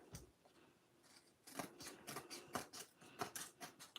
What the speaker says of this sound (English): I'm going to use some bigger scissors